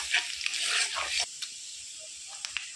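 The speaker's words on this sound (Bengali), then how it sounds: "আদা রসুন আমি লাল করে ভেজে নিয়েছি।" Chopped ginger and garlic sizzle in hot oil for about a second, then drop to faint crackles with a few scattered pops.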